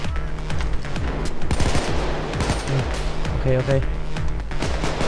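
Rapid automatic gunfire in the heist shooter Payday 2, dense bursts of shots running steadily over a loud game soundtrack while someone talks briefly.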